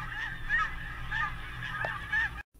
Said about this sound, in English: The arrival of the snow goose.